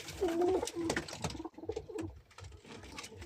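Jalali pigeons cooing close by, soft throaty rolling coos repeating in a loose rhythm over a few seconds, with no speech.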